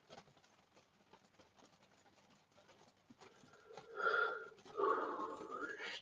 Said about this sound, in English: Stop with the yawning.